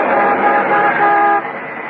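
In a radio drama effect, a big truck roars past close by as a car horn blares in a long sustained honk that cuts off abruptly near the end, leaving the engine rumbling on.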